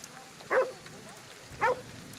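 A dog in the video game Ghostwire: Tokyo gives two short, close yips or barks about a second apart over a quiet background.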